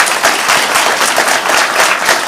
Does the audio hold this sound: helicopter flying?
no